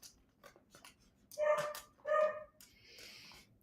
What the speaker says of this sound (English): Yes, I hear you, dogs.